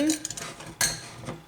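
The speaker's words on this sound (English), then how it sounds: "I'm going to stir these round again" Mustard seeds and spices with salt and pepper are stirred round a pan for macaroni cheese, making a quick run of metallic clinks and scrapes with one sharper knock midway, close and brief.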